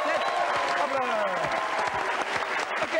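Studio audience applause on a 1994 Dutch KRO TV show, a dense patter of many hands, fairly quiet, with faint voices and a host talking beneath it.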